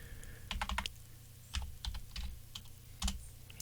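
Typing on a computer keyboard at a desk, quick clusters of close, crisp key clicks in short bursts separated by brief pauses, fairly quiet and with no voices.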